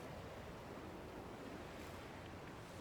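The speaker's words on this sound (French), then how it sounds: "on a notre propre cascade" Rushing waterfall in Dragon Quest Builders 2, heard as a steady, dense wash of falling water that holds an even level throughout with no voices over it.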